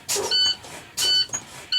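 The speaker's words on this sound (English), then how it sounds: "At 60 psi, the low air warning light and buzzer should come on" A truck's low air pressure warning buzzer, a high electronic tone, pulses on and off in short repeated bursts, sharp and close, with hissing noise at each onset.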